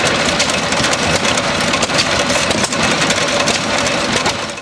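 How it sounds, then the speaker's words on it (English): A 1923 International Model M 6 horsepower stationary engine, once used to power a shearing shed, runs loudly and steadily nearby with a dense, continuous chugging drone. "A 1923 model International M. It's a model famous, a 6 horsepower engine"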